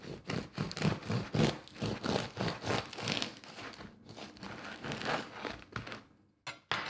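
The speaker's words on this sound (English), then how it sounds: "I'm just going to cut this open in the center and show you how it looks from the inside" A knife saws through a crusty German seeded rye and spelt loaf, making a rapid series of close crackling, crunching strokes that slow and thin out toward the end.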